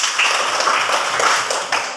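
Students clap together in a classroom, a dense, bright patter of many hands that runs steadily for about two seconds, close and fairly loud with no talking.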